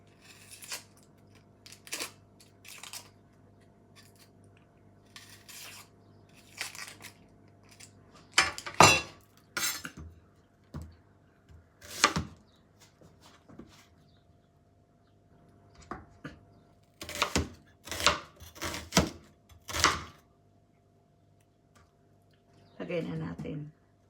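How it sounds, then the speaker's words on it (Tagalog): Food is sliced while cooking, heard as scattered sharp knife taps and clicks against a board, some in quick clusters, with occasional clinks of kitchenware in a quiet kitchen. "Hiwain natin."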